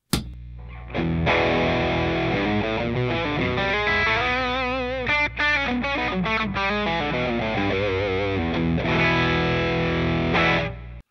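Distorted electric guitar playing chords and riffs through an MI Audio Crunchbox op-amp distortion pedal, gritty overdrive, continuous and loud for about ten seconds with no talking.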